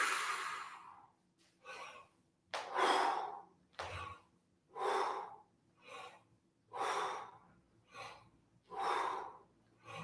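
Slow, deliberate breaths during a vocal warm-up breathing exercise: about eight separate breathy exhales and inhales in an even rhythm, close and clear, with pauses between them.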